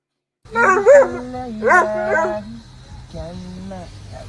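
A dog gives several close, drawn-out yelping barks and whimpering, howl-like cries in short bursts, trailing off into fainter whines.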